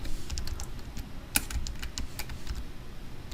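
Keys clacking on a computer keyboard as an SQL query is typed, irregular quick taps with one sharper keystroke midway, close and fairly soft, with no talking.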